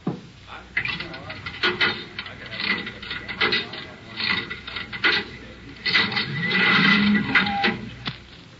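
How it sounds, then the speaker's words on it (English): An old cigarette vending machine clunks and ratchets through a string of mechanical clicks and gear rattles in a diner setting, with voices talking in the background. "Do you have some change for the cigarette machine?"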